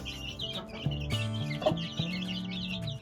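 A desi broody hen in a Pakistani village clucks in low repeated calls, close by, with busier birds chirping and clucking around it in the farmyard.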